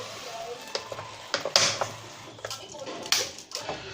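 Sandwiches fry in a pan with a light sizzle, broken by sharp taps and clatters of a utensil against the pan at irregular intervals, close by.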